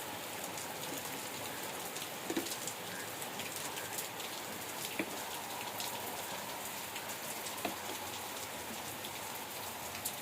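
Cyclone Remal brings a heavy downpour to Pathar Pratima in the Sundarbans: a constant roaring patter of rain on surfaces, with scattered louder drips and a faint bird call somewhere in the background.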